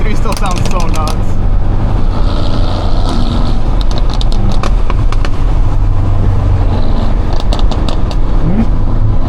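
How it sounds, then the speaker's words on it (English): A Mercedes C63 roars loud and close on a canyon road, its engine note droning steadily with crackling bursts over wind noise. "C63 still sounds so nuts"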